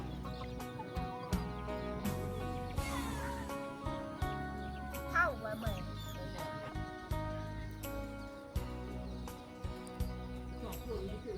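Chickens cluck repeatedly in short bursts close by, over a busy farmyard background with occasional knocks and a person talking at times.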